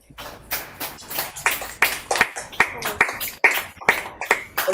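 Audience applause after a live Ethiopian tekebe'l poetry performance, with scattered, uneven clapping that swells in repeated bursts and stays close and fairly loud, with no talking.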